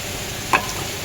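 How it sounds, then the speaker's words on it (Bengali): Onions and green chillies frying in a pan, a steady close sizzle with one brief stir or clink partway through, no talking. "পেঁয়াজ কাঁচা লঙ্কা এখন ভাজছে"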